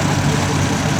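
A vintage Massey Ferguson tractor engine runs in a steady, loud, continuous rumble in the demonstration arena at a steam and country fair.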